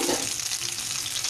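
Fish for an Odia masala fish curry fries in oil over a low flame, giving a close, continuous crackling sizzle with a brief softer bubble at the start and no voices.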